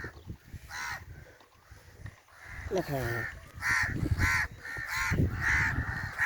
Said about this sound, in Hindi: ये देखिए हमारे कौआ महाराज बोल रहे हैं